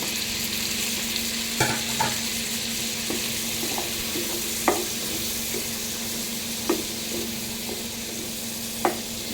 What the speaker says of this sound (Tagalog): Pork ihalo natin.